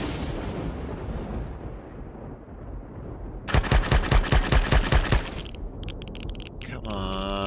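Rapid bursts of automatic gunfire in the survival game Empyrion Galactic Survival, a loud close volley of about a dozen evenly spaced shots framed by rumbling game ambience and a trailing electronic tone.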